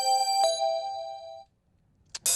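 Synthesized bell tones from the multitrack stems of a song ring out with a struck attack and long sustained tones that stop abruptly, followed by two short bright bursts.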